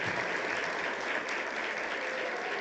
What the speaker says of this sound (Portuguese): Dá uma salva de palmas para o Nelson.